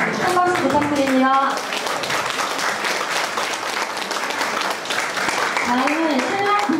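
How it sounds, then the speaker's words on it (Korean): Wedding guests applaud during a ceremony as the bride and groom bow to their parents, a steady wash of clapping heard under a speaking voice and music. "한 박수 부탁드립니다"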